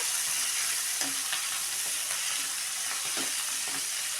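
Ingredients for tomato chutney fry in oil in a pan, a steady close sizzling hiss with a few soft stirring knocks, no voices.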